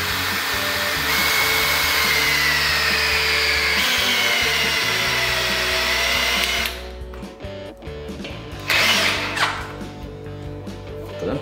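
An Einhell 18 V brushless drill-driver on speed 1 drives a 70 mm by 1/4 hex lag screw with a loud, steady motor whir for several seconds, then stops, leaving quieter handling sounds and a brief final burst.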